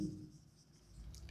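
Marker or chalk writing on a board in a mathematics class, a short faint scratchy stroke heard alone in a quiet room.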